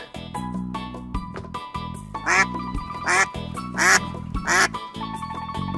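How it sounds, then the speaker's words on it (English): A duck quacks in a series of loud, raspy calls, about four in quick succession, over steady background music. "Duck."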